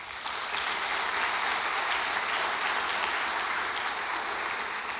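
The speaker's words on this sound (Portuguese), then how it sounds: "Uma salva de palmas para o pessoal da mídia." A congregation applauds the media team during a church service, a loud, dense and unbroken wash of clapping from many hands.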